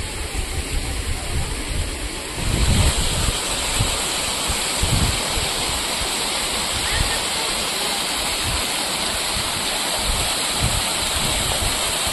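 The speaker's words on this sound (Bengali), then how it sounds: "নিচে নেমে আসছে ঝর্ণার জল।" A waterfall at Rock Garden in Darjeeling rushes down rocks in a loud, continuous roar that fills the whole scene, steady and close, with a slight surge a couple of seconds in.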